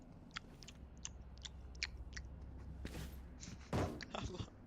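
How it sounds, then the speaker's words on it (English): Someone chews close to a microphone during a Valorant stream: a run of small, wet, crisp bites spaced irregularly, then a louder rustle-thump near the end over low room noise. "can you guys hear me chew?"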